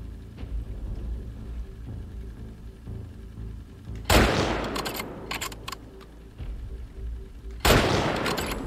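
Gunfire from The Last of Us Part II: two loud, sharp shots a few seconds apart, each with a rough, echoing tail, over a low ambient rumble.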